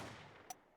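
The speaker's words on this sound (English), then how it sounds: "We had to prove she could hear gunshots." A single sharp gunshot rings out in the Ace Attorney: Apollo Justice video game, a brief crack midway through over a faint, steady background hum.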